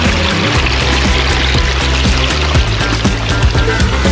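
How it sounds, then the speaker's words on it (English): Water pours steadily over a small pondless garden waterfall built with stacked urns, a dense, continuous splashing trickle heard close up with no voices. "Another great little pondless waterfall."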